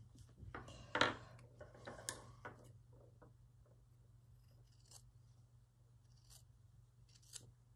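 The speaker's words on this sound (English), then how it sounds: "I want the cloak to be a little bit bigger because it can be. So I'm snipping it off here." Scissors snip through fabric for a small gnome's cloak, with a couple of sharp close cuts near the start followed by fainter scattered clicks and handling over a steady low hum.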